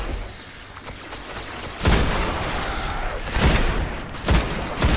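Hand cannon gunfire in the video game Destiny, several sharp loud shots spaced a second or so apart over a steady game soundscape.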